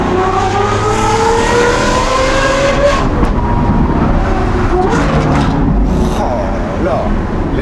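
A Lamborghini Aventador SVJ V12 fitted with a Gintani exhaust revs loudly, its pitch sweeping up and down in sharp climbing surges, heard up close from the cabin.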